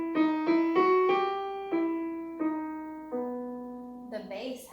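Piano playing the alto line of the hymn Aberystwyth alone: a single melodic line of about eight sustained notes, struck one after another at a slow, steady pace, each ringing clearly and fading gently, with a faint noise at the end.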